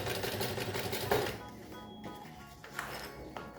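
A sewing machine stitching the straps onto a child's fabric lunch bag, running in a steady close mechanical chatter that slows and stops partway through, with a few faint handling knocks afterward.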